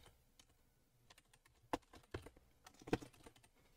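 Someone types a search for Dungeon Meshi on a computer keyboard: soft, scattered keystrokes that are mostly faint, with a few sharper clicks standing out near the middle, and no talking.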